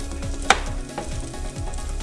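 Eggs sizzle steadily in a frying pan, with a sharp scrape or tap as they are flipped partway through, then the crackling continues evenly underneath.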